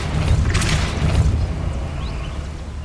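Depulso spell in Hogwarts Legacy, a forceful magical push that hits with a dense, booming whoosh in the first second, then lingers as a fading rumble under steady in-game ambience.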